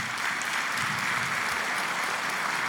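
Sustained applause from a church audience at a missions symposium, a dense steady patter of many hands clapping at even loudness throughout with no talking.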